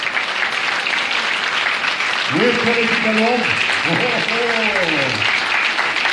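An audience applauds the bass players of a royal wind band at an outdoor marching concert, continuous clapping with someone speaking over it in the middle.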